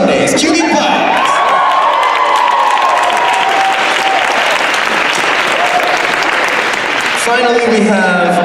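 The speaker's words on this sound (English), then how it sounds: "Cue the applause." A crowd bursts into loud sustained applause with cheers and whoops, clapping filling the space for several seconds before voices return.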